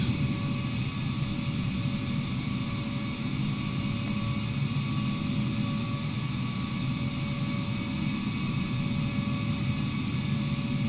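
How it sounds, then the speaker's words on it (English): Simulated jet airliner departing in Microsoft Flight Simulator 2020 at Dubai, heard from a waiting Boeing 787-10 as a steady, continuous engine roar and whine at moderate level. "We will wait for this company aircraft in front of us to depart."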